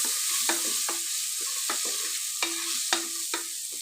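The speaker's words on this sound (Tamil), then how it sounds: "இப்போ இதையும் நல்லா வதக்கி விட்டுக்கலாம்." Onion and green peas sautéing in a pan for Karnataka hotel-style tomato bath: a steady hiss of frying under repeated rhythmic scrapes of a spatula against the pan, about seven strokes, close and clear without talk.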